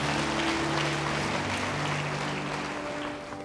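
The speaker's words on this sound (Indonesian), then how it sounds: "Beri tepuk tangan bagi dia." Congregation applauding during an online church revival service, a steady wash of clapping with a low organ or keyboard drone underneath, fading slightly at the end.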